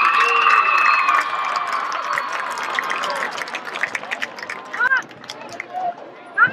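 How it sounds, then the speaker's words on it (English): A crowd at a Powder Puff 2017 event applauds and cheers for Luke Gibson, loud sustained clapping at first that thins into scattered claps, shouts and chatter, with an announcer's voice over it. "Another round of applause for Luke Gibson"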